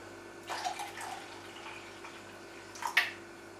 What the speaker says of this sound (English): I'm going to make it up to the 500 mils with the leftover warm water